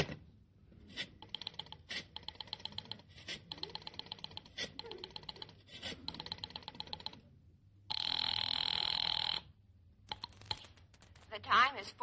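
Telephone being dialed and ringing in an old Jack Benny radio show: repeated rotary-style clicking bursts, then a sustained electric bell ring, and a short gasp-like sound at the end, close and fairly loud without talk.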